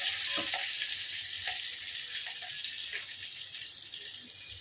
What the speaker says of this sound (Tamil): பூண்டாது கொஞ்சம் லேசாக வதக்கணும்